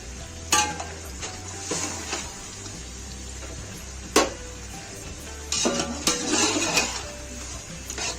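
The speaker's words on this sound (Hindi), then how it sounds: "इस गोश्त को भी हम अच्छे से इसमें भून लेंगे" Beef pieces with spices stir-fried in a pot for beef champ pulao, with irregular scraping spoon strokes and clinks over a steady low sizzle, a few sharper knocks standing out, no talking.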